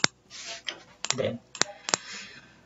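Computer mouse clicks while working in MS Word, several sharp separate clicks at irregular intervals, close up, with a person talking quietly between them.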